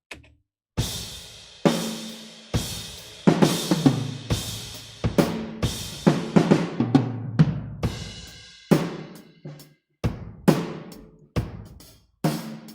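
A Superior Drummer virtual kit heard through its ambient room mic plays a groove of punchy kick and snare hits with crashing cymbals, each strike ringing out with roomy decay, ending in sparse spaced hits.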